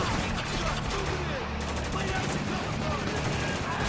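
Rifle gunfire in the video game Spec Ops: The Line, sharp repeated shots crackling over a dense, busy battle mix with a steady rumbling bed throughout.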